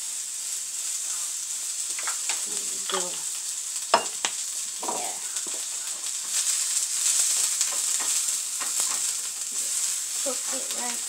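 Eggs frying in olive oil in a pan give a steady bright sizzle throughout, with scattered utensil clicks and brief faint sounds over it.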